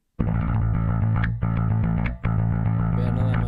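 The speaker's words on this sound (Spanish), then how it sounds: "Vamos a probar este de distorsión." An electric guitar converted to MIDI bass through a distortion bass preset plays sustained, gritty low notes in three phrases with brief dips between them, loud and close with no talking.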